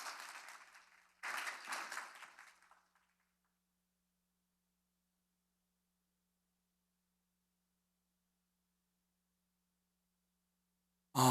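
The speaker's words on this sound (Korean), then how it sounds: "박수로 환영해 주십시오" Audience applause welcoming a lecturer at a digital humanities winter school in Korea. Two short bursts of clapping come close together, then the room falls silent.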